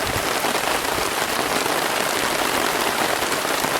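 Heavy rain falls steadily on a campsite in Uwharrie, a dense, close, even hiss of drops hitting surfaces with no pauses.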